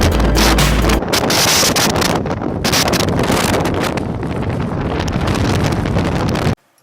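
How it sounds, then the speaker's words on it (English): Fierce wind on Maui roaring and buffeting the microphone, a loud continuous broadband rush with gusty surges, ending abruptly. "The wind was so fierce that I just had to record it."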